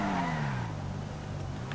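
A car engine in the video game GTA 5 Online revs steadily and loudly, its pitch sliding slowly downward. A constant whoosh of road noise runs underneath, and no one speaks.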